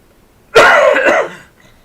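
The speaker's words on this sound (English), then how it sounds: "Sorry about my coughing." A single harsh cough bursts out close and loud, lasting under a second before trailing off into quiet.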